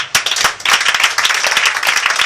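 A church congregation at a night prayer and deliverance vigil claps and applauds. The claps are sharp and rapid, overlap into a dense, energetic burst, and carry on steadily with no voices over them.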